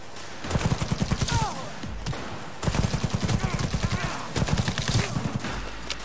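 Rapid bursts of automatic gunfire from a self-targeting gun in Cyberpunk 2077 come in three loud volleys separated by brief pauses, with faint voices beneath.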